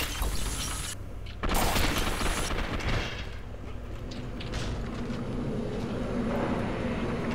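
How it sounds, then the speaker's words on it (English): Rocket blasts in the Gotham City Impostors shooter game land as a dense wash of loud explosive bursts and shattering noise, with a sharp boom near the start followed by ongoing rumbling combat chaos. "now I'm getting shot by rockets"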